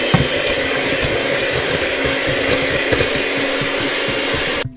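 Double cream whisked for tiramisu, a loud, constant whirring drone of an electric whisk running close by without pause, cutting off abruptly at the end.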